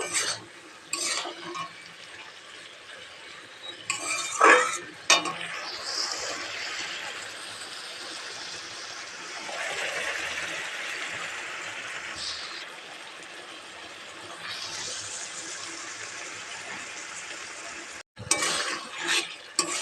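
Bottle gourd curry frying and being stirred in a pan, a steady sizzle running for most of the stretch with occasional utensil scrapes and clinks, fading briefly near the end.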